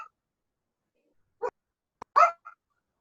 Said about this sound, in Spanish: aquí tengo a mi perrita